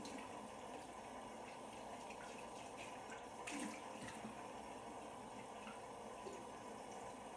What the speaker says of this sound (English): Cool water anytime I'm cleaning my containers or I'm washing my hands.